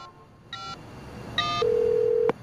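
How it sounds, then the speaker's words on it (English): Phone dialing in the Sleeping Dogs video game: two short bursts of electronic keypad beeps, then a sustained steady tone that cuts off abruptly, clear and close against quiet background. "I think I'm gonna make a phone call."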